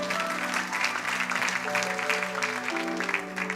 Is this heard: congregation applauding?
yes